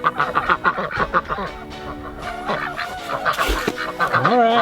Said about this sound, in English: I think these ducks are hungry.